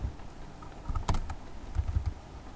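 Computer keyboard typing a terminal command, a short run of close, uneven key taps and clacks with a few louder strikes, no voice.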